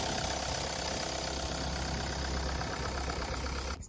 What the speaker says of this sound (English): start the engine, listen to the sound, and check the vibration.